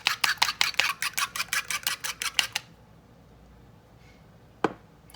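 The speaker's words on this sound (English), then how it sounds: "You're going to want to beat your eggs first." Two eggs are beaten in a bowl with about fifteen quick, sharp, evenly spaced taps over a couple of seconds. Then comes near silence and a single later knock.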